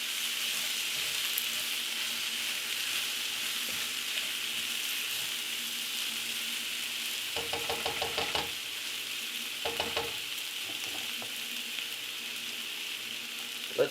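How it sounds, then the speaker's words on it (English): Shrimp sizzle steadily in a skillet with sweet potato and kale, a constant hiss of frying with a few clattering stirs and knocks of a utensil partway through, no talking. "let's throw in our shrimp because shrimp don't take long to cook at all"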